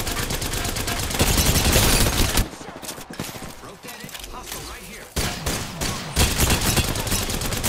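Rapid automatic gunfire in the video game Apex Legends, dense bursts of shots that drop out briefly mid-clip and then resume, loud and close, with a voice talking faintly underneath.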